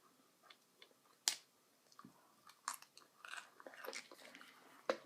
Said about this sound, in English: I love the crunch of raw vegetables.